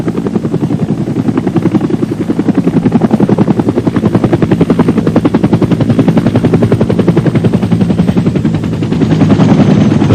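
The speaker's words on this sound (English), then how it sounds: "Army helicopter pilots who flew into exposed landing zones to haul us out, frequently under fire" Military helicopter lifting troops out of an exposed landing zone, its rotor thumping loudly and continuously in a fast, steady beat that persists for the whole stretch.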